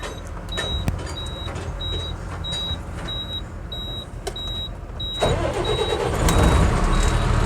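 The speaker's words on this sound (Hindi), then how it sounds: "गाड़ी को चालू करते हैं।" A Tata 3718 BS4 truck's diesel engine is started, a steady heavy idle rumble that swells louder and rougher in the final seconds, with a thin high whine running through it.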